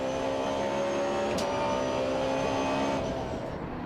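A race car at the 2013 Grand Prix Danmark touring car race screams past, its engine climbing in pitch and shifting up through the gears, loud and sustained and fading slightly at the end.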